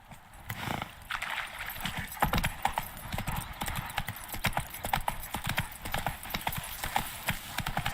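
A horse gallops in The Witcher 3, rapid hoofbeats clip-clopping steadily and fairly close for the whole stretch, with a soft snort near the start.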